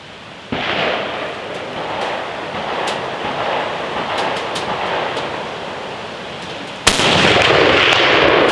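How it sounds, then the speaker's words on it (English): A Steyr Mannlicher M95 rifle fires a single loud shot near the end, breaking through steady outdoor wind and rumble, with a sharp report and lingering decay. "I'm going to shoot at a red one, see if the higher contrast target will aid in me hitting it."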